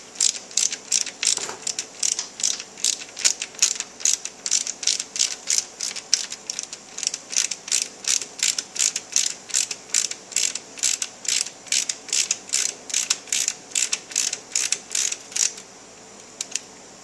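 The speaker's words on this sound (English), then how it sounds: "Let's remove this bolt here that holds the brake lever on" A ratchet loosens the brake lever bolt on a KX250 dirt bike, fast repeated clicking strokes in steady bursts, close and loud, ending in a short quiet pause, no talking.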